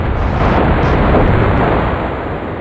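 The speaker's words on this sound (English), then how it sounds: "Oh, there goes the bombs." Bombs exploding in the flight combat game Fighters Anthology, a loud, sustained rumbling blast that fills the whole stretch with dense, roaring noise before easing slightly at the end.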